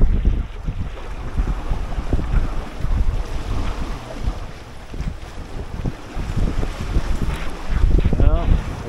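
A 21-foot pocket cruiser sailboat, reefed and sailing in 20-knot winds, with steady rushing wind buffeting the microphone and water washing against the hull, occasional splashes coming over the side.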